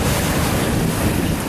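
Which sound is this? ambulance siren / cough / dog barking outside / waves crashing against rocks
waves crashing against rocks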